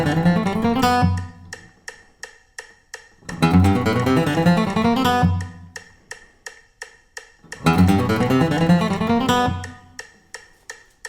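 A shortened bluegrass guitar lick played at 170 BPM in three quick bursts, bright picked notes racing over a steady metronome click that keeps ticking alone between phrases.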